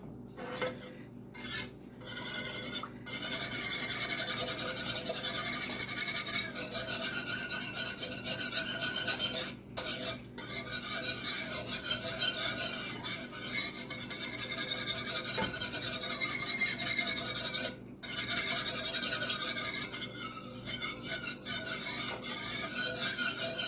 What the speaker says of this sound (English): So we're just going to continue mixing this all in for a couple minutes